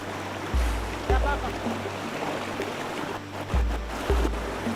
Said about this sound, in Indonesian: lihat jeramnya aja ini deras, lumayan deras